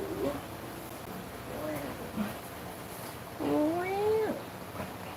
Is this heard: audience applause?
no